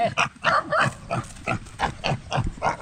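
Native pigs grunting and snorting in a rapid, irregular series of close, rough calls, loud and continuous across the moment with no talk over them.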